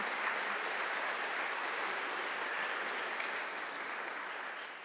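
An audience gives sustained, even applause for an honoured group at a membership recognition gathering, a dense wash of clapping that fades slightly at the end.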